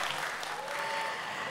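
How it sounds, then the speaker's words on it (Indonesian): Steady applause from the audience at the closing plenary of the Indonesia Net Zero Summit 2024, a soft, continuous wash of clapping heard from a distance. "Coba tepuk tangannya, boleh ya?"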